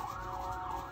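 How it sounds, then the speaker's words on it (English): Emergency vehicle sirens wailing outside, a steady rising and falling tone heard at a distance, faint and continuous with no one talking. "A lot of sirens going on, well, just now"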